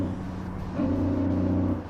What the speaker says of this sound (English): Now that we're kind of cruising in this truck in like top gear